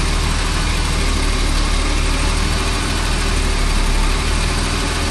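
A BMW engine idles with its AC compressor laboring, a loud, close, steady rumbling drone with constant low vibration and no break throughout.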